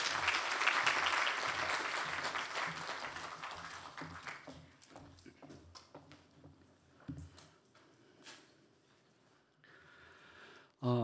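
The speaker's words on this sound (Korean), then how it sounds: "이제 목사님 나오실 때 우리 큰 박수로 환영하시겠습니다" A church congregation at a Sunday morning service claps to welcome a visiting missionary to the pulpit: dense, full applause for about four seconds, then thinning into scattered claps and quiet room noise.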